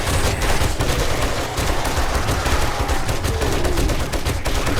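Sustained gunfire in the survival game 7 Days To Die, dense rapid shots rattling continuously and loudly over a roaring low-end backdrop, with no pauses across the stretch.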